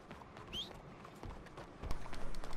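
Horse running in Red Dead Redemption 2, a soft rhythmic clip-clop of hooves that grows louder toward the end as it approaches, with a faint whinny-like tone early on over game ambience.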